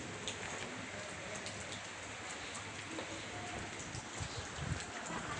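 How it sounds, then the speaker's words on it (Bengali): Steady rain falls on the grounds of a police line high school during exams, with water pooled across the field; a dense, even patter runs throughout at moderate level with no voices. "বৃষ্টি পড়ছে"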